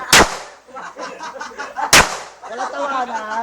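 Two sharp, loud gunshots ring out at a firing range about two seconds apart, each followed by a brief echo, with people talking between and after the shots.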